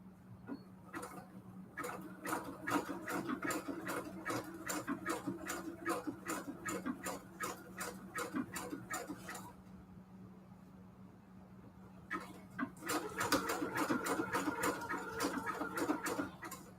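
A sewing machine stitches a sunflower junk journal in fast, even rhythmic ticking runs, broken by a brief pause before it picks up again, with a steady motor hum underneath, close and moderately loud.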